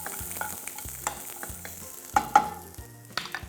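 Chopped vegetables and diced carrots sauté in a pan, with a soft background sizzle, scattered stirring clatters and a few sharper knocks against the pan, close up and without speech, under steady rhythmic background music.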